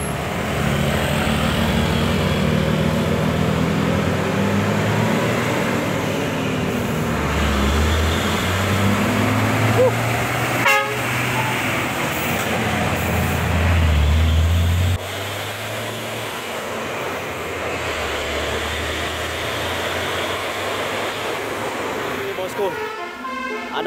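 A Hino 500 truck drives through a mountain road bend at Tenjolaut, Karang Nunggal, its loud engine drone and tyre roar rising and shifting over about twenty seconds, with a horn toot and a voice talking over it.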